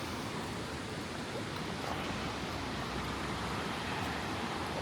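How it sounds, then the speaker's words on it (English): A small river flowing through the Swiss village of Gstaad, a constant broad rushing hiss of water, close and steady for the whole stretch with no voices. "This is the wee river"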